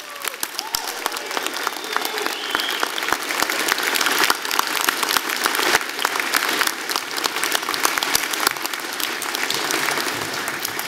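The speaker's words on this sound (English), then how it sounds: "how about a big round of applause for the faculty on stage for all their support?" A large audience gives sustained, dense applause for the faculty on stage at a university convocation ceremony. The clapping holds steady and full for the whole stretch, with faint crowd noise beneath it.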